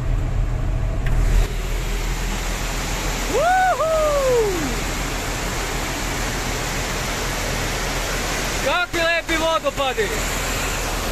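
Rainwater pours in steady waterfalls after three days of continuous rain turned roads into rivers, a constant broad rushing wash throughout, with a couple of brief whistling or squealing tones rising over it.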